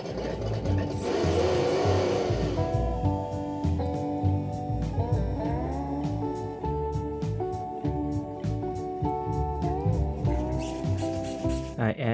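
A modified RC 1969 Camaro with a V8 supercharger engine gives a loud, close motor whine that rises and falls in pitch through several revs, with rattling and clicking from the small drivetrain.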